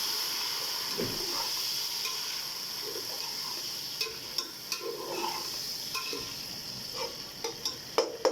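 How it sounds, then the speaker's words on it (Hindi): Chickpeas fry in hot oil with a steady close sizzle and hiss, while a utensil scrapes and taps the pan repeatedly as they are stirred, no talking. "अब इसको मैं 1 से 2 मिनट ऑयल में फ्राई करूँगी ताकि हमारे जो चने हैं वो अच्छे तरीके से गोल्डन हो जाएं"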